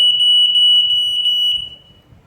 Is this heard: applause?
no